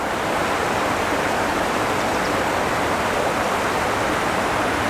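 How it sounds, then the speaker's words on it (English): River water flowing in Glencoe among mountains, a steady, dense rushing wash that stays constant and fairly loud throughout, with no voices. "You've got the noise of the water flowing."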